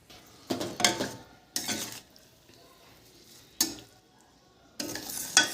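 Dried mourala fish bharta is stirred in a pan over low heat, with four separate bursts of scraping and clinking from a spatula against the metal, each followed by a quiet stretch.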